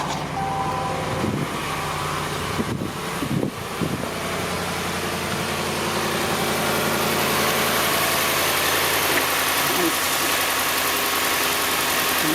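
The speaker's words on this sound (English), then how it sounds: "Let's start the car." A 2017 Dodge Ram 1500 pickup engine idles steadily after starting, with a close, continuous mid-range hum and vibration and a few brief clunks near the start.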